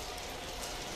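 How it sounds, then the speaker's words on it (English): Rain falls at night in Brisbane, a dense, even hiss of drops heard close and alone, without voices, over one short steady stretch. "I'm moist because it's been raining all day and it's starting to get slightly heavier"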